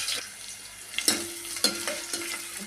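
Onions and whole spices such as cloves, cinnamon and fennel frying in a little oil in a pan, with a steady soft sizzle and a few sharp spatula scrapes and taps, close by and fairly quiet.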